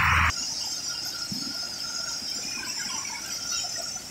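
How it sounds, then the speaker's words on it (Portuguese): A strong river's water rushes in a steady, unbroken roar that fills the whole clip, with a short high squeal at the very start. "Gente, esse barulho todinho é a água."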